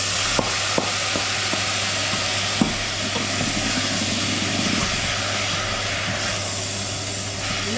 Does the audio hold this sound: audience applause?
no